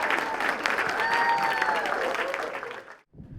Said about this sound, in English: Another round of applause for all the DTMs for the past 3 years.